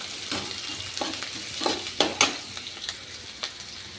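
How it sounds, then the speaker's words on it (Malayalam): Thinly sliced ginger sizzles in a hot pan while a spoon stirs it, a steady frying hiss broken by several sharp scraping strokes, close and alone. "ഒന്ന് ഇളക്കി കൊടുക്കാം."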